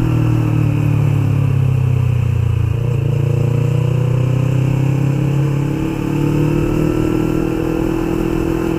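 A 2016 Yamaha MT-25 motorcycle engine drones loudly and steadily during a ride, with a strong low rumble and a slight rise and fall in revs, close to the bike and without voices.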